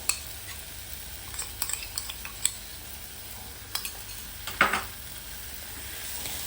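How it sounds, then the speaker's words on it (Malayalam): Marinated soya chunks tossed into a pan of cooked masala for soya pulao, giving a soft, steady sizzle with scattered scraping stirs and light clinks of a utensil on the pan, one louder scrape near the end. "ഇനി നമ്മൾ മാരിനേറ്റ് ചെയ്ത് വെച്ചേക്കുന്ന സോയ ചങ്ക്സ് അതിലേക്ക് ചേർക്കുക."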